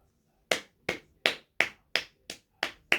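Hands clap eight times in a steady, evenly spaced rhythm, each clap crisp, close and distinct against near silence, with no talking.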